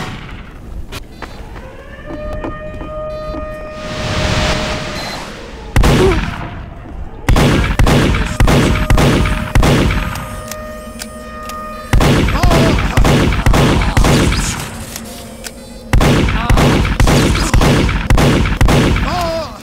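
Video-game gunfire from Team Fortress 2 on PS3, loud rapid bursts of shots in repeated volleys with short pauses, over a steady background drone and occasional game effects.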